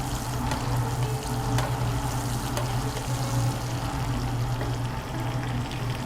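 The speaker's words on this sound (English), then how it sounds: "We'll baste this side." Meat browning in a hot pan with thyme hisses and sizzles steadily up close while being basted, a continuous frying crackle with occasional spoon scrapes.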